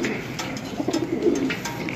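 A line-bred racing pigeon coos close by, a few soft low throaty rolling calls over a faint hissy room background.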